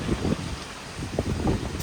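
Gusty monsoon wind on Mount Girnar, Junagadh, buffets the microphone in low, uneven rumbles for a couple of seconds, with no voices.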